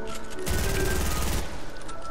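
Rapid automatic gunfire from a shooter video game, a dense burst of shots lasting about a second, loud and close, set against a steady game background.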